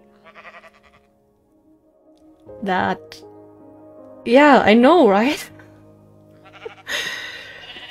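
Minecraft sheep bleating in a couple of short wavering bursts, one brief and one longer, with people talking around them.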